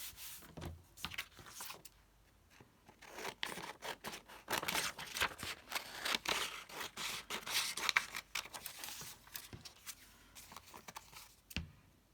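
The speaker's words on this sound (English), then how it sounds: "I'm just trimming it off, as you can see" Scissors trim paper for a lettered craft piece, producing a series of soft, close snips and rustles in short irregular bursts, with some paper rubbing between cuts and no talk.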